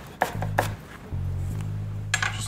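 A knife slices a jalapeno thin on a cutting board. Several crisp chops come in quick pairs with a pause between, close and fairly clear over a low steady hum.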